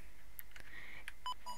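At a Tesco self-checkout, the machine beeps while its gate is left open: a short run of bright electronic tones, close and clear, with a few faint clicks before them and a steady hum underneath.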